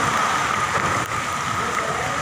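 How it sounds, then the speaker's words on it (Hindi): Heavy rain pours steadily in Karachi with strong wind, a dense continuous hiss of drops hitting surfaces close by, with no voices. "माशाल्लाह बहुत ज़बरदस्त बारिश हो रही है।"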